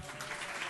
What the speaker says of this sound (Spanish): te están aplaudiendo